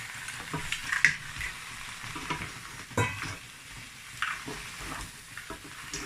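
Fried seafood and crab being stirred in a pot, with a steady low sizzle under repeated scraping and clattering strokes of a spoon, close and moderately loud, no voices.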